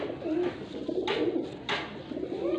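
Pigeons cooing in a loft kept for breeding pairs, a low steady murmur running throughout with two short brighter bursts of noise partway through.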